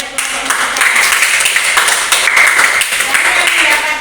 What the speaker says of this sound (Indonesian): Kita kasih tepuk tangan untuk kelompok Mudita.